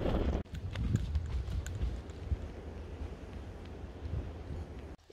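Strong wind on a Mudeungsan mountain trail, a low buffeting roar that gusts and rumbles continuously against the microphone, with no one speaking.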